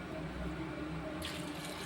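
A tumbler of water pours steadily into a pressure cooker pot with a continuous splashing rush, growing brighter near the end as the stream hits the surface.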